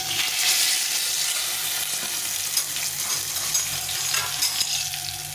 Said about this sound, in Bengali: দিয়ে একটু ভেজে নেড়ে নেব